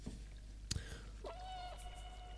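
Cat meows from the video game Stray, set in a post-apocalyptic world: a sharp click, then a sustained, wavering meow with clear harmonics over low background hum, fairly close and distinct, with no talking.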